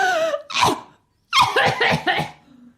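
A woman coughs in two bouts, first a single harsh cough, then after a short pause a rapid string of several wet, raspy coughs trailing off, close and clear.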